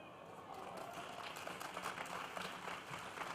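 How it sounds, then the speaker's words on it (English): Faint, steady applause from a crowd at a celebration-of-life gathering, with a hum of murmuring voices running beneath the clapping throughout. "That's right, we can clap for that."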